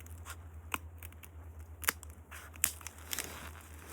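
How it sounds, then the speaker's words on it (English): Sharp snips of cutters trimming wire off an office phone circuit board, three or four crisp clicks spaced irregularly, close and fairly quiet over a steady low hum. "on this wire here, I'm going to go ahead and trim it off right there"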